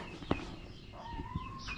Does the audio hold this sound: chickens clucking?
yes